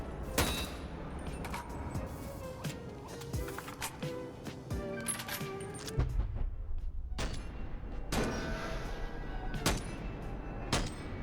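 AKS-74U rifle fire in the VR game Bonelab, repeated sharp gunshots in quick bursts and single cracks with short echoing tails, loud and close, a brief lull midway before firing resumes.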